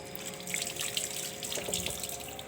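Tap water runs steadily over raw chicken being washed in a sink, a continuous close splashing stream with small shifts as the meat is turned, with no talking.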